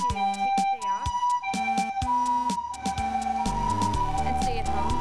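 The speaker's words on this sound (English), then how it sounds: "We live right by a hospital, so we hear ambulances quite a bit." An ambulance siren sounds near a hospital in Tokyo, its wailing tones rising and falling loudly throughout, with layered pitch sweeps and no talk.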